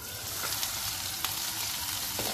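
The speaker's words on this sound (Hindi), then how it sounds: "चिकन बिल्कुल हल्का हल्का सा फ्राई हो चुका है, एक साइड से थोड़ा सा और कर लेते हैं" Chicken pieces frying in a pan for a sandwich, a steady broadband sizzle that holds at an even level throughout, with occasional soft stirring clicks and no voices.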